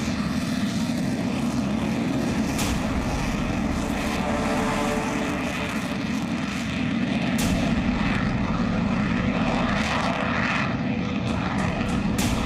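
A Sukhoi Su-30MKI fighter jet with a made-in-India engine gives a loud, continuous, broadband roar that holds steady throughout, with a brief dip midway and no voices.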